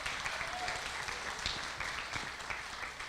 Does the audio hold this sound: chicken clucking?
no